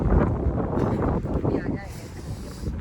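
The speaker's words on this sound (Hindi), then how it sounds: "देख रहे हैं किसी हवा चल रही है मजा आ रहा" Wind blows outdoors in Kuwait, buffeting the microphone with a constant loud rumble and gusty rushing, while someone talks over it.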